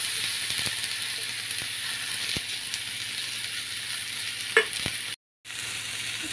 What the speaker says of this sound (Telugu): ఇప్పుడు దీనిలో కట్ చేసి పెట్టుకున్న దొండకాయ ముక్కలను వేసేస్తాం